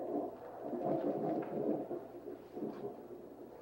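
A low, steady rumble of thunder from a night thunderstorm rolls through at moderate level, swelling and easing over a few seconds with no voices present.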